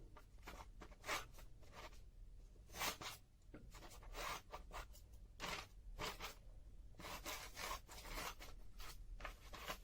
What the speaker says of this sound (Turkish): Bunları çok dikkatli bir şekilde kesiyorum.